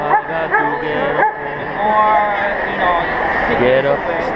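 A Basset Hound lets out a string of close yips, short barks and drawn-out whimpering whines, several separate cries over a few seconds.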